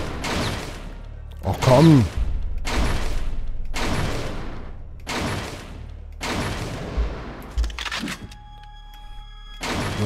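Gunshots in the Fahrenheit video game: about seven loud, evenly spaced shots, each a sharp bang with a brief decaying tail, with someone briefly speaking between them.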